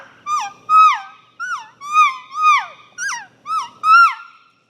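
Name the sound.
elk calf call on Phelps orange latex amp call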